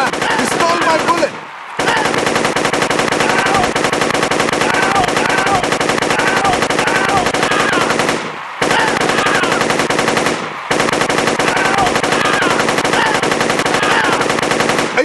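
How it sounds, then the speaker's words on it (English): Semi-automatic rifle gunfire in the iPad game The Dictator Wadiyan Games comes as loud, dense, rapid shots in long sustained bursts, broken by two brief pauses. "Aladdin has become the first person to wield a semi-automatic rifle during a race"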